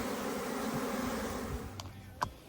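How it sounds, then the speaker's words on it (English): Bees hum steadily in a hive box that recently swarmed and is still full of bees; the buzz is close and continuous, with a couple of brief knocks near the end. "This was the box that swarmed and it's still full of bees."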